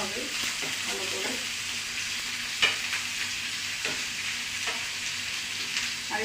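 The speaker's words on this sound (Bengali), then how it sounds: "এবার একটু ভেজে দিতে হবে ভালো করে।" Carrot and capsicum fry in a pan while being stirred, giving a steady close sizzle with intermittent scraping clicks from the spoon and one sharper knock partway through.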